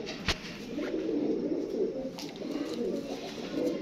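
A pure-blood pigeon coos softly and continuously nearby, a low, throaty murmur with faint background noise and one brief sharp click near the start.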